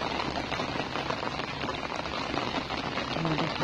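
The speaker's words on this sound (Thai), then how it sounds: "ฝนลงเม็ดใหม่ละ" Steady rain falls outdoors at the edge of a rice field, a dense even patter on the surrounding surfaces that fills the whole stretch with no clear voices over it.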